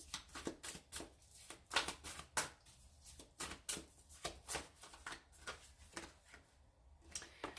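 Tarot cards being shuffled by hand, a steady series of soft riffling bursts and flicks, close up and quiet, with no talking.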